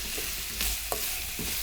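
Green onion stir-fried briefly in a pan with braised potatoes, giving a steady low sizzle with a few soft scraping stirs of a utensil against the pan.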